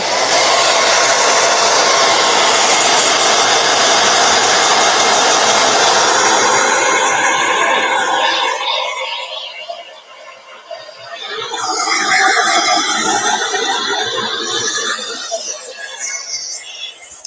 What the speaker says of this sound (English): we're going to use the dryer again,